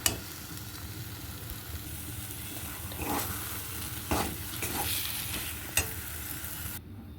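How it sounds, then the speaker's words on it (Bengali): Taro (kochu) bharta is stirred in a hot pan, with steady sizzling and several scraping strokes of the spoon against the pan, close and without talk. "এবার আমি একটু নেড়ে চেড়েই নামিয়ে নেব পরিবেশনের জন্য"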